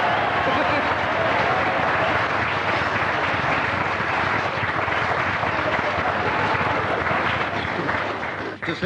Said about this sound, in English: Just let me check that applause